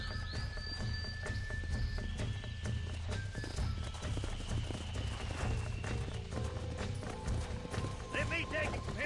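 Horse hooves clip-clop steadily through the Red Dead Redemption game world, a continuous rhythmic trot with a whinny and music mixed in, while a voice talks over it.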